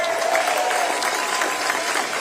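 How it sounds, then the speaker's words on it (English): Crowd applause at a Martin Luther King Jr. Day celebration on a university campus: steady, energetic clapping from a sizable gathering with a faint murmur of voices. "will you help me appreciatively applaud everybody who participated on the program?"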